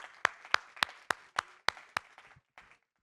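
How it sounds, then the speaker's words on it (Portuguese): A small audience at a book club talk claps in roughly nine sharp, separate claps at a steady pace, close by and fairly loud, then trails off into a few softer claps before silence. "Palmas para Marina."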